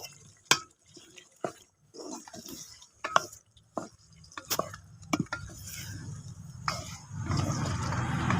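Potatoes stirred and sautéed with spices in a pan for a home-cooked egg and potato curry: irregular scraping clacks of a spoon against the pot, then a building sizzle, with someone talking in between.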